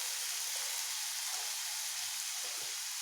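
Onion gravy for a fish curry fries in oil in a pan over a gas flame, giving a steady, close, unbroken sizzling hiss with no voices.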